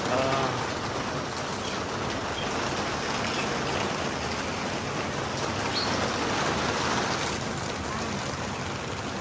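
Steady rain falls in a continuous soft patter, a dense wash of drops on surfaces with no pauses.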